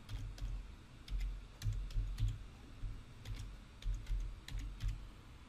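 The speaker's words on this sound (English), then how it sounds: "So let's type in Seurat demo." A computer keyboard typed on in short bursts, soft close clacking keystrokes in an irregular rhythm over a quiet low hum.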